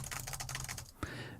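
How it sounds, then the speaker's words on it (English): Computer keyboard typing, a steady run of quick light key clicks close up, then a brief pause and one firmer keystroke. "Others have also used like keyboard sounds"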